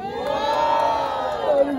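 Crowd at a Brazilian street rap battle semi-final, the Batalha da Leste, cheering and shouting in a loud, sustained roar of many voices that swells briefly near the end.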